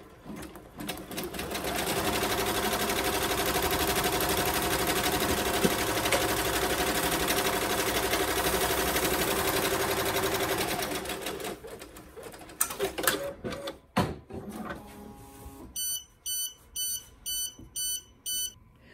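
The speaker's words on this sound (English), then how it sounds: "we're going to stitch number one" Embroidery machine stitching the outline of an in-the-hoop hand sanitizer holder runs in a steady, loud mechanical drone for about twelve seconds, then slows to scattered clicks and a series of short, evenly spaced electronic beeps.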